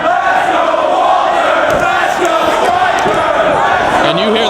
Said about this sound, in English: you hear the crowd dueling chants back and forth for both men